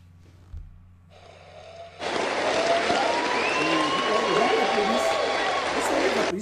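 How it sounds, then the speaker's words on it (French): An audience bursts into loud, sustained applause after a quiet start, dense clapping with cheering and whistles rising above it, heard close and continuous. "Mais ils applaudissent, ils pensent que c'est le spectacle."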